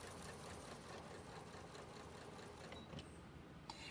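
A sewing machine runs steadily across a pant-leg waistband while making a reading pillow, its dense mechanical whir continuous and fairly faint throughout with no pauses.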